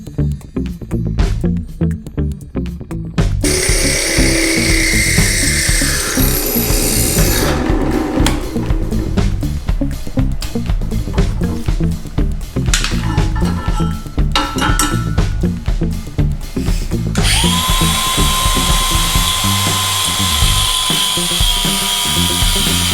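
A power drill bores holes through a truck bed floor while an in-bed trailer hitch holder is installed, loud and continuous with bursts of whining drilling and clinking metal, several passes one after another, no talking.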